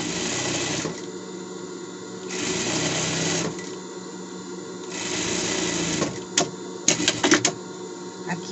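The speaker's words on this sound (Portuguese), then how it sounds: "aqui a gente vai fazer uma bainha. Aqui embaixo, uma bainha." A sewing machine stitches a hem on a child's costume in three steady whirring bursts separated by pauses, ending with a few sharp clicks and knocks.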